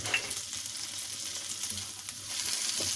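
Steady sizzling and crackling of onions and garlic-ginger paste frying in hot oil, close up, with occasional soft stirring scrapes.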